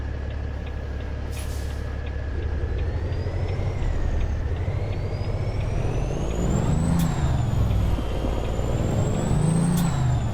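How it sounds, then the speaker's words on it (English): A heavy truck engine drones steadily with a rising turbo whistle, punctuated by sharp hissing bursts from the air brakes, close and loud throughout. "That turbo noise, yeah."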